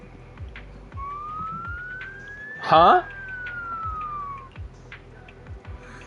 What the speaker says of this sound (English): So it really is a siren.